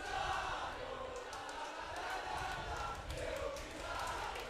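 Italy's under-19 boys team cheers on their girls' side at a women's junior ultimate frisbee championship match against Ireland, a steady distant crowd roar with shouts rising and falling throughout.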